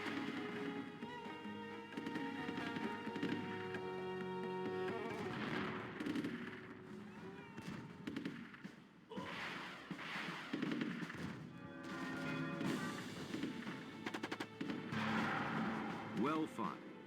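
Rise of Nations battle as German forces, tanks among them, attack the French: continuous dense gunfire and explosions mixed with game music and a voice, loud and unbroken throughout.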